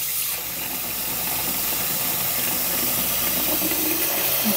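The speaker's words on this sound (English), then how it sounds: "I'm gonna get the cold water going in here." Cold water runs steadily from a kitchen tap into a bowl while green beans are prepared for canning, a loud continuous splashing rush with no break.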